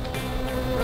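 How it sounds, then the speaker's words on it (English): Bumble bee buzzing in a short, steady, close drone, heard alone without talk. "like a bumble bee"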